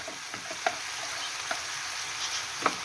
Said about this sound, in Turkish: etlerimi de bir kenarda kavuruyorum